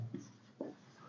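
A pen scratches out handwritten notes in two short, soft strokes over faint room hum, close but quiet.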